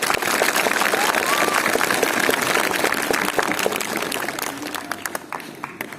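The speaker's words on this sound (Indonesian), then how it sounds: "Mari kita semua memberikan tepuk tangan atas debat ini." A debate audience applauds with dense, broadband clapping that fills the room, loud at first and then thinning toward the end, with no voices on top.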